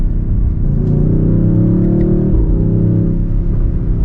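A 2023 BMW XM SUV accelerating under paddle-shift control, its engine droning loud and close with rising tone and a brief dip at a gear change before climbing again.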